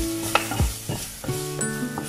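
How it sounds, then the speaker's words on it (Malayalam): Turmeric and coriander powder stirred into hot oil for a Kerala tomato fish curry (fish mappas), with a close, steady sizzle and short scraping strokes from a stirring spoon in the pan. "ഒരു 1/4 ടീസ്പൂൺ മഞ്ഞൾപ്പൊടി ആഡ് ചെയ്ത് കൊടുക്കാം. ഇതിൻ്റെ കൂടെ 1 ടീസ്പൂൺ മല്ലിപ്പൊടി."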